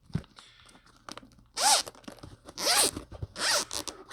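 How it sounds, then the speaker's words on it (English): A zipper on a carrying case for earphones is pulled open in three quick, rasping strokes close to the microphone, with small handling clicks before. "Opening it up via the zipper"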